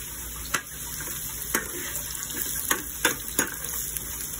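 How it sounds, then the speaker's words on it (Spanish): Chopped onion and carrot sauté in a pan for a potato lasagna, giving a steady close sizzle broken by several sharp pops or stirring clicks, with no talking. "Tengo la cebollita sofriendo, voy a echarle la zanahoria."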